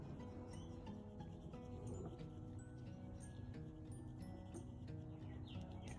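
Oil pastels rubbing over paper in short, steady scratchy strokes, a close and fairly quiet dry scraping texture that carries on continuously, with faint birdsong in the background.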